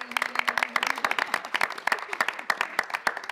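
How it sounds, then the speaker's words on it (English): Scattered audience applause at a film press conference, individual claps distinct and uneven, moderately close, with a brief low hum at the start and no talking. "Round of applause"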